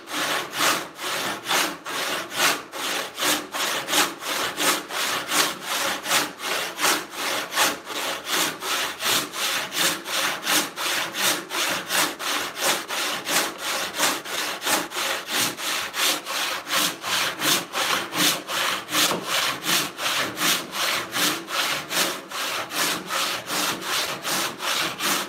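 Hand saw resawing an 8-inch-wide walnut board, rapid rhythmic strokes rasping back and forth at a steady pace, close and loud, continuing alone without any talk.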